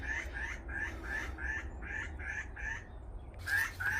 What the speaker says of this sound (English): Who's in there croaking?